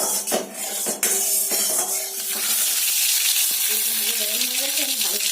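Boiled potatoes fry in hot white oil with a steady, close sizzling hiss that runs throughout, a few sharp clinks early on, and a faint voice-like hum in the background.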